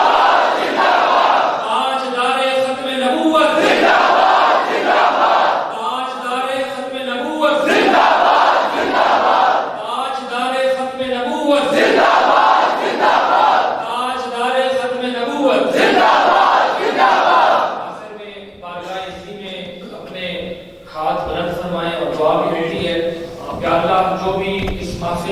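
A crowd at a religious gathering chants slogans in loud unison, answering a leader's call in regular bursts of roughly two seconds each. The calls and responses alternate and repeat many times over the span.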